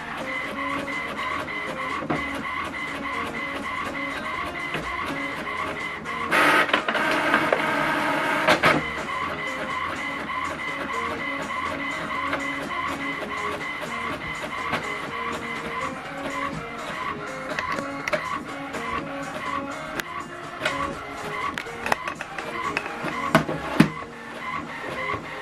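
An HP Envy 6032 inkjet printer printing a page, with steady mechanical whirring and a louder burst of feed motor noise partway through, then continued carriage clicks and hum close by.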